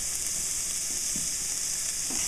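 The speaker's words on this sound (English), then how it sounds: "I've got a pan heating over here. And now this, when I push this, it'll just hear that. It's a nice sound." Food sizzling in a hot frying pan on the stove, a steady close hiss and crackle that carries on evenly throughout with no talking.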